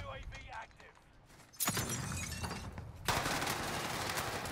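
Gunfire from a drop shot in Warzone on Rebirth Island, with two abrupt loud bursts of shots cutting in after a quieter stretch, each followed by sustained dense noise.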